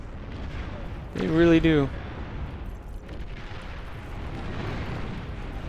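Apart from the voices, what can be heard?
Arbiter missiles exploding in video game Beyond All Reason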